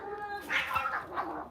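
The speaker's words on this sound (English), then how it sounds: "this orange cat's fighting with all the other cats" An orange cat scuffles with other cats, giving out a string of moderately loud yowls and wails that rise and fall in short bursts, with no talk.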